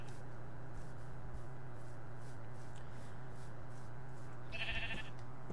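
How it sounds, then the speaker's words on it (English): In a Minecraft game, a sheep gives one short, bleat near the end, heard over a steady background hum, with no talking. "And hello, sheep."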